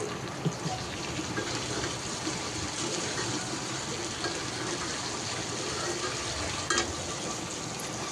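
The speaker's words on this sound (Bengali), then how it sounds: "তো এখন দিয়ে দিচ্ছি টমেটো সস, আর মশলাও দিয়েছি।" Tomato sauce and spices sizzle in a frying pan with cooked meat, a steady close hiss with faint stirring clinks throughout.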